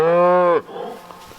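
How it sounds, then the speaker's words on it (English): A single Wagyu-Hereford cross cow gives one loud, close, drawn-out moo that stops abruptly, followed by quiet farmyard background. "they're Wagyu Hereford crosses."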